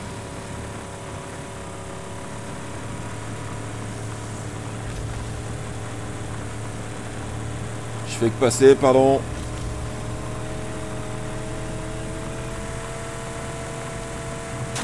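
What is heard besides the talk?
vehicle engine noise in the video game Rage 2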